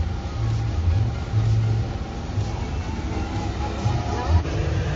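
A vehicle rumbles past on a downtown street in America, a low engine drone rising and fading amid steady city noise, with voices murmuring over it.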